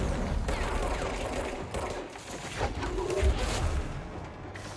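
Gunfire in the game Control, a dense crackling burst of shots running steadily through the whole stretch, fairly loud with mechanical clatter mixed in.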